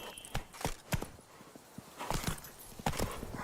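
Hooves of the horse Roach clip-clop in quick irregular bursts as it runs in The Witcher 3, fairly close, with no talk over them.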